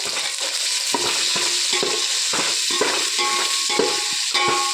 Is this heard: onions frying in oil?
yes